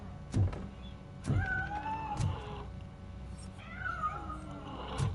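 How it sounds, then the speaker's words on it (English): Meows from a cat in the Robocop video game, several drawn-out cries rising and falling over steady game background noise, punctuated by sharp clicks. "The cat is fine."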